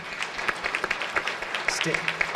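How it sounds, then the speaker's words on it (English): An audience claps, a steady patter of applause with people talking over it. "Let's give a round of applause for these people."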